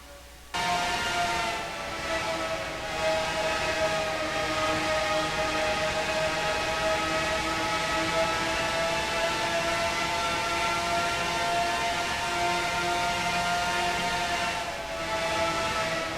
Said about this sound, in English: how loud they wind these engines up on these cars here